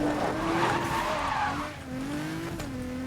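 A Lamborghini Aventador racing in Need for Speed: Most Wanted (2012), with sustained tire squeal and skidding over a loud engine drone that dips briefly and then resumes.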